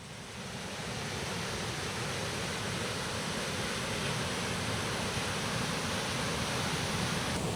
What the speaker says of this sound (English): I don't know if you can hear me above the sound of the waterfall